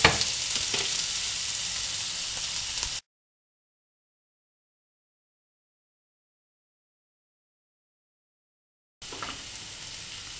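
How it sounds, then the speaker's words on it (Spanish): Onion softening in a pan with salted ham, giving a steady gentle sizzle close by, heard in two stretches separated by a silent gap. "Y ahora pocharemos un poquito la cebolla."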